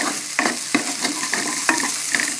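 Onions frying with garam masala and ginger-garlic paste are stirred in a pan, a steady loud sizzle broken by regular scraping strokes of the spoon, with no talk.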